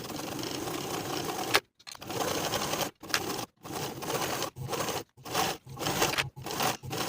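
A sewing machine bastes the pressed side edges of a sweater's kangaroo pocket, running in repeated bursts of steady whirring that stop and restart several times.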